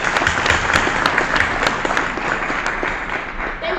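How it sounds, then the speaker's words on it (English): A round of audience applause outdoors in cold weather at the Legae Academy school award ceremony, a steady, loud burst of many hands clapping throughout, with a few sharper claps standing out. "can we please give him another round of applause?"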